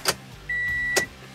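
A key turning in the ignition of a 2016 Toyota Camry gives two sharp clicks about a second apart, and a steady electronic chime sounds between them, close and alone.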